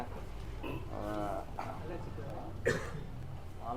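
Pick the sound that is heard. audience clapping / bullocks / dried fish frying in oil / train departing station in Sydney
bullocks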